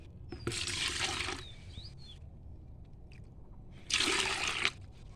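Water from soaked banana, potato and onion peels is poured onto potted coriander on a rooftop garden in two short splashing bursts, close and moderately loud, separated by a quiet gap.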